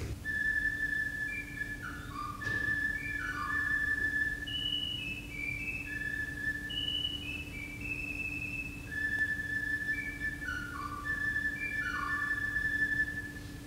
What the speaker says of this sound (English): he whistled a tricky little fanfare in remarkable tune like this